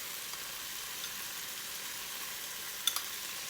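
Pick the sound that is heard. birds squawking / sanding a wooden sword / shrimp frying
shrimp frying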